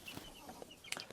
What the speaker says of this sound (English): we also have the small chicks that we got this year. These are the Finnish heritage breed.